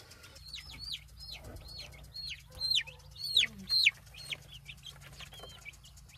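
Ameraucana chickens in a coop making a run of rising, squeaky clucks and chirps, several louder calls clustered in the middle over a low steady hum.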